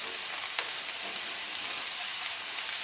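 Smashed garlic, onion and bird's eye chili sizzling in a pan over low heat, a steady soft hiss with occasional faint pops, alone without talk.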